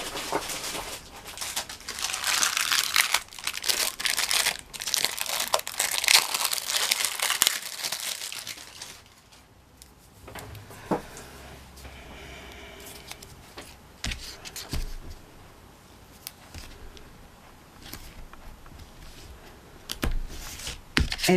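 Adhesive tape crinkles and rustles loudly close up for several seconds while a paper album is assembled, then quieter handling follows with a few sharp scissor snips and taps.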